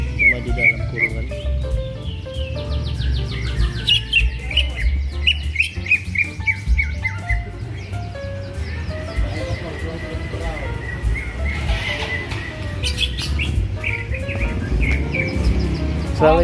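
A caged songbird at a bird-singing contest sings loudly and continuously in bright chirps, trills and whistles, with voices talking underneath and a low background rumble throughout.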